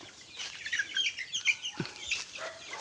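Chickens on a small backyard farm cluck and chatter close by in a busy, overlapping stream of short calls, with a soft thump partway through.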